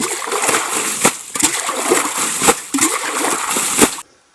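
Rainwater being bailed out of a boat: water splashes and sloshes in quick, uneven scoops, with sharp splatters every second or so, close by, then stops abruptly.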